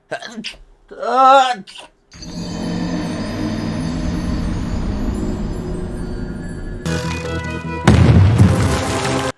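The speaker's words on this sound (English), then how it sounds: "And now they're starting to test all the bombs." A bomb test explosion in the film Oppenheimer, heard as a long, loud, low rumbling roar that swells and holds for several seconds, then gives way to a sharp burst near the end, after a brief voice at the start.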